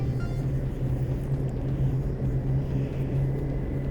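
Aircraft taking off in X-Plane 11 from Morgan County toward Salt Lake City, a steady low engine drone with a strong humming tone, continuous and fairly loud.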